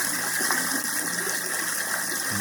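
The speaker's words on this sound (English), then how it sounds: "You can hear the water running." Water trickles and splashes down a small waterfall built into a junkyard diorama, a steady close rushing and gurgling sound with no talking.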